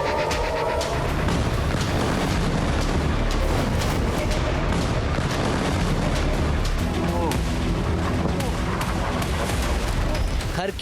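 Missile strikes on Kharg Island, a dense, loud barrage of booms and blasts rolling on continuously, with voices heard through the clamour.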